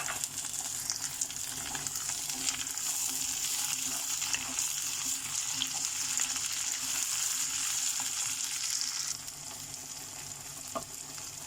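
Chopped medium-size tomato frying with onions and spices in a pan for a masala chicken, a steady loud sizzle throughout that eases slightly near the end, with no voices.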